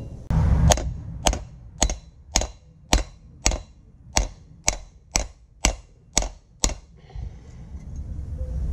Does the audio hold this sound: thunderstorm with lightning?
no